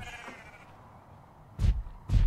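Sheep in Minecraft give two short, loud blocky bleats near the end, following a quiet stretch of game ambience.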